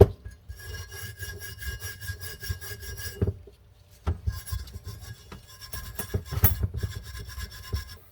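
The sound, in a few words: razor blade scraping gasket material off carburetor body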